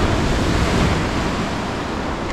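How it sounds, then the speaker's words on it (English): Ocean waves break and wash continuously at Durdle Door on the Jurassic Coast, a loud, dense roar of surf mixed with wind buffeting the microphone, with no talking. "I just wanted to come down here first, check out the waves there"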